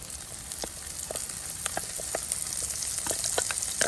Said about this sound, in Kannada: ಇದೇ ಕಡಾಯಿಗೆ ನೋಡಿ ಮೆಣಸಿನ ಪೇಸ್ಟನ್ನು ಹಾಕ್ತಾ ಇದ್ದೀನಿ